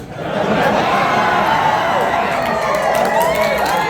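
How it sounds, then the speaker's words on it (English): An audience at an anthro dance competition roars with sustained cheering, shouts and whoops, loud and dense throughout after a quick rise at the start. "I need you to cheer like Elon Musk just got banned from Twitter"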